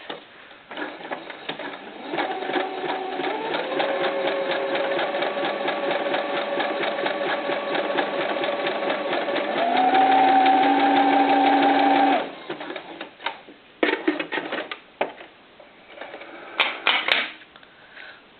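A sewing machine runs a small zigzag stitch, one length by one width, on stretchy knit fabric for a doll tank top, a steady fast whirring clatter for about ten seconds that rises in pitch, then short stop-start bursts.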